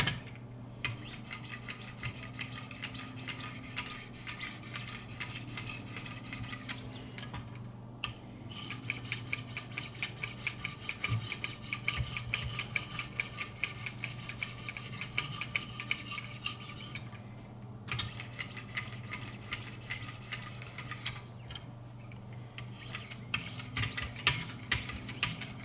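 A knife blade is drawn over a 2200 grit stone on a Wicked Edge sharpener in a steady, rasping back-and-forth rhythm. The scraping is faint and continuous, with a few brief pauses and no talk.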